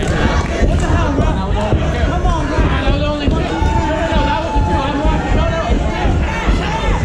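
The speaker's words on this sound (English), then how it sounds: "The crowd showing their appreciation for Travis Williams right now." A wrestling crowd at a live match roars and cheers steadily for a wrestler, a dense, continuous wall of voices and shouts that stays loud from start to finish.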